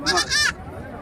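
Two short, loud bleats sound in quick succession at a goat and sheep market in Kunnathur, then fade into a low murmur of background voices.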